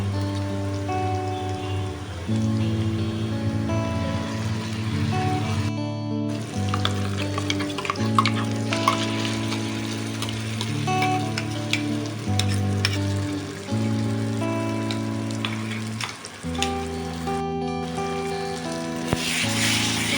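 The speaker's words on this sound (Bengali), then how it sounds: "পেস্টটা দিয়ে এখন ভালো করে নাড়াচাড়া করে মিশিয়ে নেব" Bean paste sizzles steadily while being stirred into softened onions in a pan, a constant crackling fry heard beneath background music with no talking.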